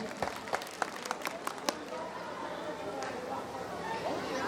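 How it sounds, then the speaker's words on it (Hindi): Audience at a school Republic Day drama claps, with several distinct sharp claps early and crowd chatter underneath, fading into murmuring voices. "जोरदार ताली से स्वागत कीजिए।"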